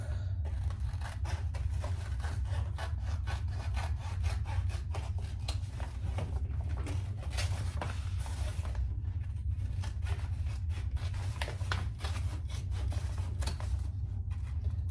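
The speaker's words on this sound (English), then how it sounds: "But the lining I am trimming about by half." Trimming a fabric lining while making a storage caddy: a steady, dense rasping and rubbing of cutting through cloth that runs continuously with no pauses, close up and with no talk.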